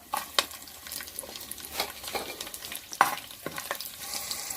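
Garlic sizzles and crackles in hot oil with fenugreek, fennel seeds and curry leaves for a dried fish curry, with close, busy frying and intermittent stirring scrapes throughout.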